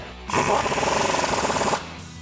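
A power impact tool drives a 15mm socket onto a bolt on a 1994-2004 Mustang's lower control arm suspension, a close, loud, rapid rattling burst of about one and a half seconds.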